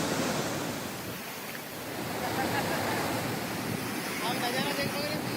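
Floodwater released from a dam during heavy rain rushes in a loud, steady roar that fills the whole stretch, like heavy surf, with no pause.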